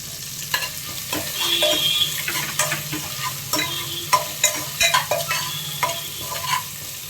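Crushed ginger and garlic, with onions, sizzle in hot oil in a pan for cucumber dal, with a steady frying hiss and repeated sharp scraping clicks of a spoon stirring.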